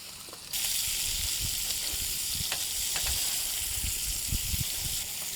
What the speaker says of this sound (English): Scramble up these eggs. Stirring it up like amigos.